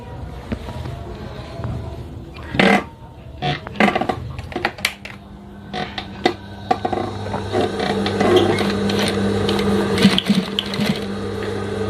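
An electric sewing machine stitches a folded fabric front pocket, starting with a few scattered clicks and knocks from handling, then settling into a steady, close whirring drone that runs to the end.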